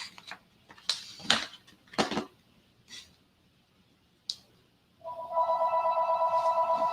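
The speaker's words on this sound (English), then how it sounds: "Please ignore the phone ringing in the background." A telephone rings in the background of a book release livestream, a steady warbling electronic ring that starts after several scattered clicks and rustles and keeps pulsing evenly to the end.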